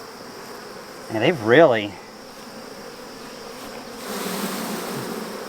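Honey bees buzzing around a hive frame covered in comb and drone brood, a steady close hum throughout, briefly overlaid by a spoken voice, growing slightly louder near the end.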